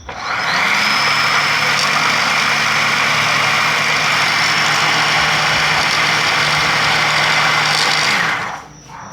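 Homemade lathe for turning fishing rod handles, the older version, runs with a loud steady motor drone and belt hum for about eight seconds before spinning down at the end.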